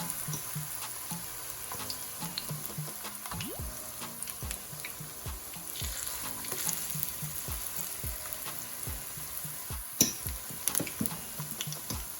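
Plantains fry in hot oil with a steady crackling sizzle, punctuated by repeated sharp pops and spatters, close and continuous for several seconds with no voices.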